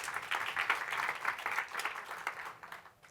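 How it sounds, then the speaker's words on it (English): A conference audience at a state community development gathering gives a round of applause, moderately loud clapping that holds steady for a couple of seconds, then tapers off and fades out. "Let's give Nadita a round of applause."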